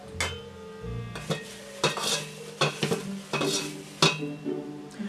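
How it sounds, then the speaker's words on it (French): Ingredients being stirred together in a dish, with a series of distinct scraping, clattering strokes at irregular intervals, close and fairly loud, with no talking. "Mélangez le tout."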